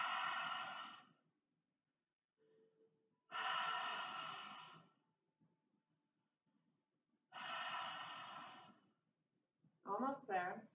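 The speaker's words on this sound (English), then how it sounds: "It's a powerful cleansing breath as you inhale and exhale through the mouth." Forceful cleansing breaths during chair yoga, inhaling and exhaling through the mouth with the tongue out: three long, loud, rushing exhalations separated by near silence, ending with a brief voiced sound.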